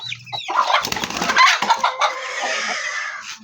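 A mother hen clucks loudly and close, her calls running continuously with some rustling and wing flutter mixed in.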